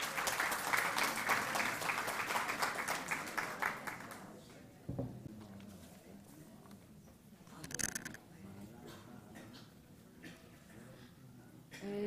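Audience applause at a lecture evening on the Aden Jewish community, dense clapping for about four seconds before dying away into quieter room noise and scattered sounds.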